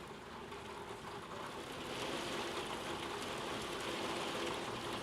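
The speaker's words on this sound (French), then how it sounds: "Je sais pas si tu peux entendre la pluie." Steady rain patters densely on a surface, a continuous soft hiss that swells slightly after the first couple of seconds, with no voices.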